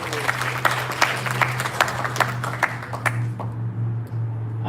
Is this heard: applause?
yes